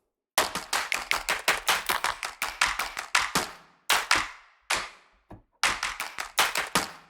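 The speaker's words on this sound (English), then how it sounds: "Layered claps." Layered hand claps from the Renegade body percussion library: rapid bursts of crisp, stacked claps in quick rhythmic runs, a few isolated single claps in a short gap, then another fast run, loud and close.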